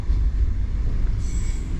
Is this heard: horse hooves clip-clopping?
no